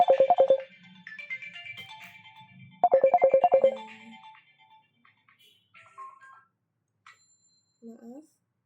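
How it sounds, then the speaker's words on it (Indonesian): A phone ringtone plays in two bright, rapid electronic melodic bursts, close and clear, followed by quieter scattered tones as it fades out. "Maaf, ada telepon."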